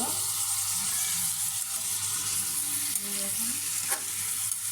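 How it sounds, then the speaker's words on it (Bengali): Chicken stir-fried in spices for bhuna, with a loud continuous sizzle, spatula scrapes and stirring against the pan, close up, and a sharp metallic knock near the end. "সবগুলো চিকেন আমি এটা বোনা করে নিব।"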